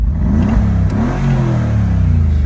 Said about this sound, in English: There's just something to be said about that rumble coming through the window.